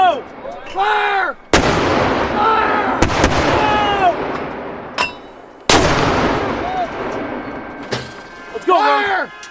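Artillery and gunfire at a joint US and South Korean army live-fire drill: several sharp, loud blasts with rolling echoes spaced a few seconds apart, with shouted commands between the shots.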